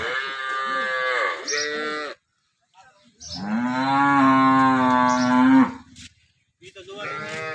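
Loud, close moos from local dairy cows in Banaskantha: two long drawn-out lowing calls separated by a short pause, with the start of a third at the end.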